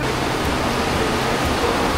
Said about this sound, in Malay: Bunyi air dia kuat tu.